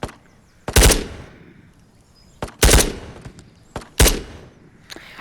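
M4 rifle gunfire in the video game Ghosts of Tabor: three loud, close bursts of rapid shots spaced across the clip, each with a ringing tail, plus a few single sharp cracks.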